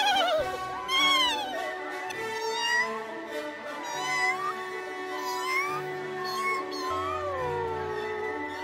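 A cat meows again and again in the Roblox game Adopt Me, with repeated high, wavering calls over a light musical background.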